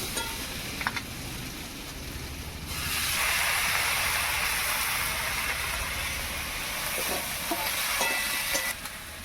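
Drumstick flowers dropped into a hot pan with peas, a brief clatter then a broad steady sizzling hiss that swells after a few seconds and continues with occasional stirring knocks, no voices.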